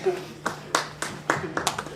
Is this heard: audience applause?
yes